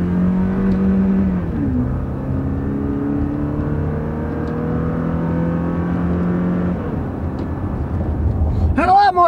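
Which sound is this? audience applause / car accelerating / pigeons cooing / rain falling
car accelerating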